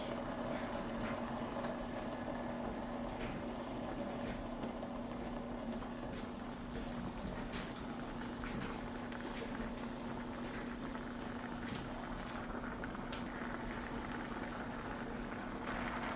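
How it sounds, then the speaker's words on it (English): Water with rice boils steadily in a pot, a continuous bubbling and simmering with occasional small pops, close and moderately quiet. "Now I let it boil like this for a while."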